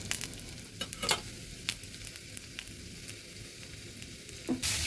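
Fish pieces frying in hot oil sizzle steadily at a moderate level, with several brief clinks and scrapes as pieces are lifted out one by one.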